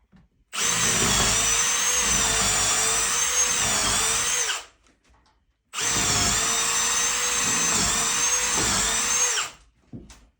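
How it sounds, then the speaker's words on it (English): A power drill pre-drilling holes in wood for a small two-person picnic table, heard as two loud, steady high-pitched whining bursts of about four seconds each, separated by a short quiet pause. "So that's why we're pre-drilling."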